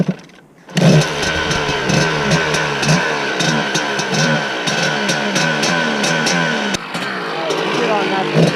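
A motorcycle engine starts with a burst, then idles and revs repeatedly in a loud, close, uneven throb, with a brief dip near the end.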